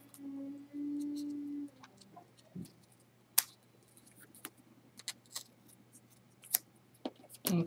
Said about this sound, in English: take my scissors and just cut that excess